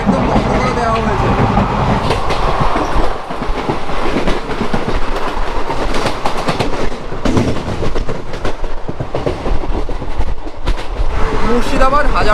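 Aboard the Hazarduari Express running from Kolkata toward Lalgola, loud continuous rumble and rhythmic clickety-clack of the wheels on rails, with people talking over it.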